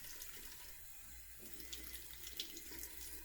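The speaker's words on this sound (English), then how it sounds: "so that you can really hear the water nicely" Tap water runs steadily into a sink while makeup brushes are cleaned, a close, continuous soft splashing rush with small bursts of brighter spatter, heard alone without voices.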